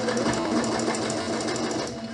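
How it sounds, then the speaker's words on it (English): A sewing machine stitches continuously along a pillowcase edge while backstitching, a steady close mechanical whir running unbroken throughout. "I'm just going to backstitch here and then restart a new straight line on the other"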